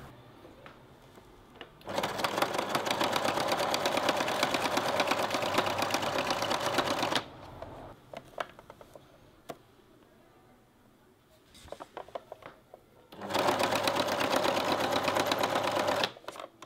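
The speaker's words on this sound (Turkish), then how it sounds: "İlk defa dikiş dikiyorum ama fena olmadı sanki." A sewing machine stitching curtains inside a van conversion runs in two loud, steady buzzing bursts of several seconds each, separated by a quieter stretch of small handling clicks and rustles, heard up close.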